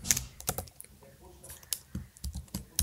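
Typing on a computer keyboard while entering a link: quick, close clusters of key clicks in uneven bursts with brief pauses, and a voice faintly in the background.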